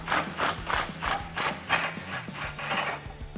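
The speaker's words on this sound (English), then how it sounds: "And you're just gonna remove this bolt holding on the hanger and isolator to the body of the vehicle." A ratchet turning a 13mm swivel socket on the exhaust hanger bolt of a 2015-2019 Dodge Challenger 3.6L, giving steady, close, regular clicking bursts about twice a second, with no talk over it.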